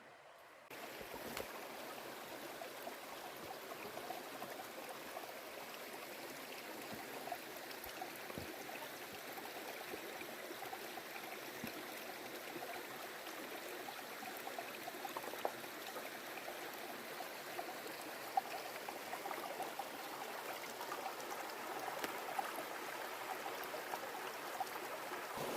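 Ottertail Creek on the Ottawa Temiskaming Highland Trail flows in a steady, soft wash of water that holds an even level throughout with faint trickling detail and no voices.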